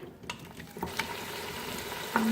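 Beef trotters frying on medium flame for paya, a short stretch of low sizzling with a few spoon knocks and scrapes against the pot.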